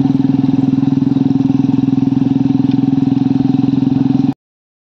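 A motorcycle engine runs at a steady, close, loud rumble with a fast rhythmic putter and some rattle after a rough ride to a tea garden, then cuts off abruptly near the end.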